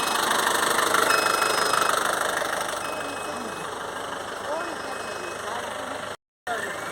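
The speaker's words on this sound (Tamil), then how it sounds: "ஷவர்லைட் டவேரா இந்த வண்டிக்கு வந்து இன்ஜின் கார்பன் க்ளீன் சர்வீஸ் பண்ணிகிட்ருக்கோம்" Chevrolet Tavera engine idling steadily during an engine carbon cleaning service, a continuous mid-pitched hum with a faint knock, close and fairly loud, with a brief dropout near the end.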